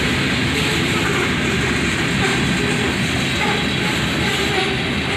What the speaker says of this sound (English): Soon enough, the end of the train goes by.